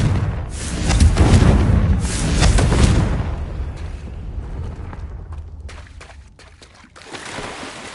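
A Confringo fire spell blasting in the wizarding game Hogwarts Legacy, two loud booming explosions in quick succession that roll off into a fading rumble, followed by scattered crackles and a softer thud.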